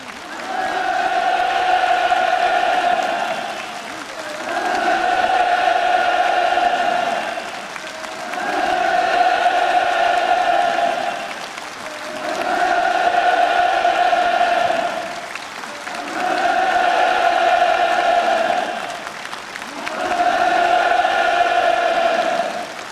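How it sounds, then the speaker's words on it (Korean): Large audience roaring with enthusiastic cheers and applause after a Lunar New Year celebration performance, the loud crowd noise surging and falling in broad repeated waves, close and sustained throughout. "공연이 끝나자 또다시 열광적인 환호성이 장례를 진감했습니다."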